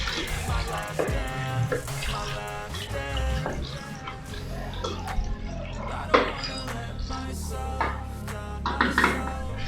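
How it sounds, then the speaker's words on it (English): Water poured into a pot of steamed meat for bitter leaf soup, a steady splashing, trickling stream with clinks of the pot, close and continuous throughout. "I'm going to pour water."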